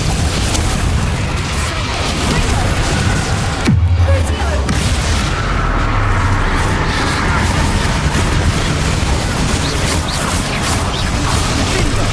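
A Confringo blasting spell from Hogwarts Legacy goes off as a sudden deep boom partway through, rising out of a continuous, dense wash of loud game ambience and effects.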